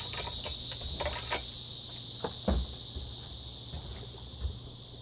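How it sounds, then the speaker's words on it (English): Crickets chirp steadily through a damp night after rain, a dense high-pitched trill that fills the whole stretch with a few soft knocks and thumps underneath. "Crickets. Oh yeah, we have plenty of crickets."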